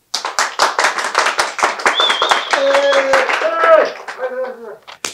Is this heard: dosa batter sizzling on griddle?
no